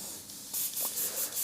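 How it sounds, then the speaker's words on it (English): Airbrush spraying water with the air line set to 20 psi, a steady close hiss that surges in several short bursts as the trigger is pulled, with no talking. "just blast through a little bit of water and just see how your spray pattern's doing"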